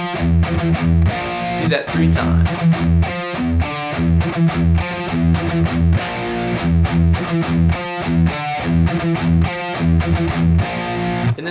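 A distorted electric guitar chugs a palm-muted riff, the bridge of a song, in tight repeated rhythmic phrases, loud and driving, with a brief spoken remark at the start.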